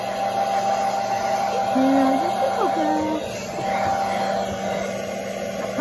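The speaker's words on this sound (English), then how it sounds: "I propped my hair dryer on a towel." A hair dryer propped on a towel, blowing on a Shih Tzu puppy during grooming: a steady, close whirring hum with a constant droning tone that runs throughout, while a person talks over it.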